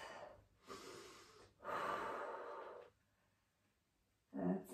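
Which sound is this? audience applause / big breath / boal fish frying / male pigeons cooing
big breath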